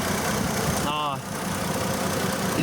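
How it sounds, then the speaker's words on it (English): A car engine with a number 6 cylinder misfire idles close by, a steady rough rumble that fills the clip while someone talks over it. "this thing has a misfire, number 6 cylinder misfire"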